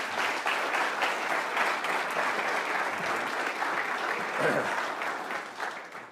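An audience at a Clemson MBA talk applauds steadily as a speaker is welcomed to the stage, dense, sustained clapping from a large crowd that tapers slightly at the end.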